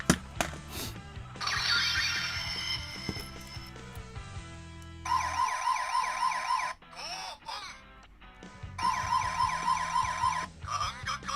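A police car toy plays its electronic siren effect, a loud close wailing tone that cycles in bursts with mechanical clicks and pauses between them, with no voices.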